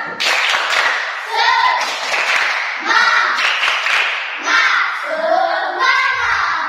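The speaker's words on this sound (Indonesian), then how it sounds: "Kita melaksanakan tepuk semangat" Schoolchildren in a classroom perform the 'tepuk semangat' spirit clap, loud rhythmic bursts of group clapping in patterned phrases with children's chanting voices woven between the claps.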